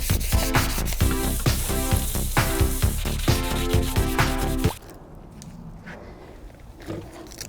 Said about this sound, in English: we got to get good old piece of sandpaper and we gotta rough her up as much as possible all over